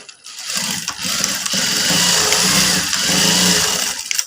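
Sewing machine stitching a folded fabric piece twice for a rose-shaped blouse trim, its motor whirring steadily and loud after a brief start, with no talking.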